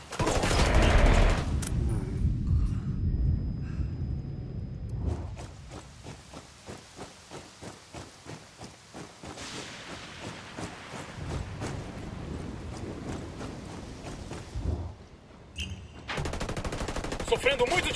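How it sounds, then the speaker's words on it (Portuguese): Bursts of gunfire ring out in a PvP shooter game, rapid repeated shots in runs with pauses between, fairly loud and close, with faint background noise and no talk. "Sofrendo muitos disparos."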